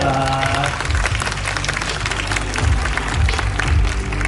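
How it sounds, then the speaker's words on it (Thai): Audience applause welcoming a music video director at a launch event for a song, steady clapping under loud background music with a strong bass throughout. "ขอเสียงปรบมือดังๆครับ"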